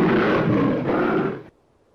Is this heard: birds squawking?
no